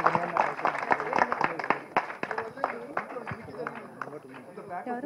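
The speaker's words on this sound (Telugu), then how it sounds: "క్లాప్స్ అండి సపట్లు సపట్లు" An audience claps at a Telugu movie audio launch for James - The Indian Talent Hunt, a steady dense patter of hands under a loud voice talking over it throughout.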